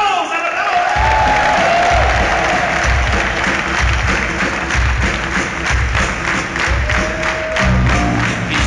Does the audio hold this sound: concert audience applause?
yes